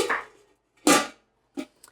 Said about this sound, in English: So I'm going to put my lid on.